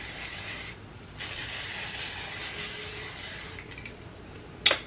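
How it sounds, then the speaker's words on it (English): Milani makeup setting spray misted in several hissing bursts, close and fairly loud, with short pauses between sprays and a sharp click near the end. "I just put on my Milani spray to kind of melt in my powders"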